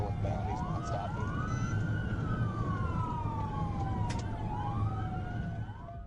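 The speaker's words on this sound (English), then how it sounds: "despite multiple patrol cars behind him with lights and sirens activated" Police patrol car sirens wail during a pursuit, rising and falling sweeps sounding continuously and fairly loud over steady road and engine rumble.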